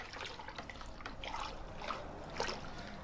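Wine being stirred with a holed paddle during degassing, giving a steady close swishing and trickling of liquid that continues throughout with small splashy surges.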